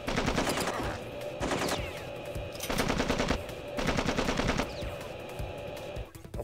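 Sustained bursts of automatic gunfire from a video game mission, loud and close, coming in several long rattling volleys separated by brief lulls, with no talk over them.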